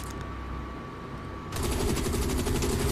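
Video game gunfire starts abruptly halfway through, a rapid, continuous machine-gun rattle following a quieter stretch of low background hum.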